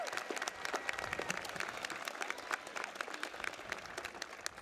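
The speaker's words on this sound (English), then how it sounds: "Please give them a round of applause." Audience applause at a 2016 college graduation ceremony, a steady dense patter of many hands clapping at moderate distance, sustained evenly without voices.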